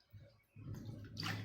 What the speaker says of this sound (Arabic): نزل المية دي واحط مية تاني نضيفة